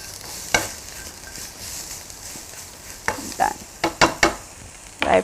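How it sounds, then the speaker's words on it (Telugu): Chopped ginger, garlic and onion sweat in hot oil for a tomato egg drop soup, a steady soft sizzle broken by several sharp scraping stirs, close and alone with no talk. "అల్లం, చిన్నగా చాప్ చేసుకున్న వెల్లుల్లిపాయలు, అల్లం ఆయిల్లో ప్రాపర్ గా స్వెట్ అవుతుంది"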